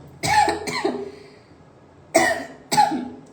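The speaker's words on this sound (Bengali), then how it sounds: "তোমার কথা শুনে আমার কাশি আসতেছে" Three sharp coughs up close, two together at the start, then a pause before two more single coughs near the end.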